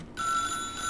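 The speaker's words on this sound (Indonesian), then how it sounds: "Gua angkat telepon dulu, guys." Brief electronic telephone ring from the horror video game The Salvation Project, a steady high tone starting abruptly after a short silence, close and clear with no talk.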